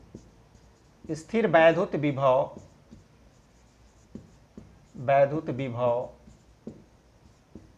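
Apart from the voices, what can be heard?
writing notes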